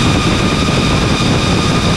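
The motors of a 5-inch 6S FPV quadcopter, strapped to a table at full throttle with an RPM limit of 24,500, give a loud, continuous, high-pitched propeller roar with a steady tone throughout.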